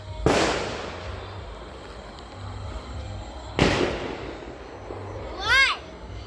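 Two sharp firecracker bangs a few seconds apart, echoing outdoors on New Year's Eve night, followed by a warbling whistle near the end.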